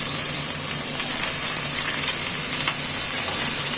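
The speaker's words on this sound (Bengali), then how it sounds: "এখন আমি এই আলুটা ভেজে নিচ্ছি।" Small diced potato pieces frying in hot oil for chirer polau, a steady close crackling sizzle that runs evenly throughout with no voices.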